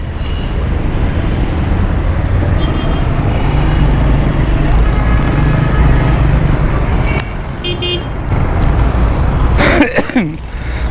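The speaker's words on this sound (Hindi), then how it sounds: "देख रहे हैं आप, यहाँ से ट्रैफिक भी चल रही है।" Steady road traffic roars along a busy street beside a furniture market and service road, with a few short car horn toots cutting through near the end over the continuous engine and tire noise.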